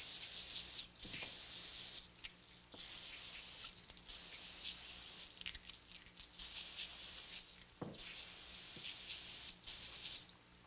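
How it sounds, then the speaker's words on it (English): Long hissing blasts of brake cleaner sprayed onto motorcycle sprocket bolts, about five steady bursts separated by short pauses, close and fairly loud, with no one speaking. "it's a good idea to clean them off with some brake cleaner or some contact cleaner"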